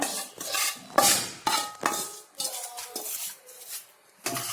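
Puffed rice (mandakki) being stirred with a spoon through its tempering in a metal pan, giving repeated close scraping, clinking strokes in an uneven rhythm with a faint sizzle underneath.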